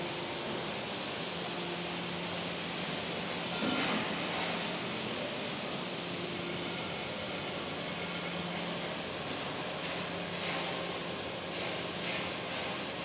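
A cable tray roll forming machine runs with its looper feeding the forming section, giving a loud, steady industrial roar with faint clanks and no pauses throughout.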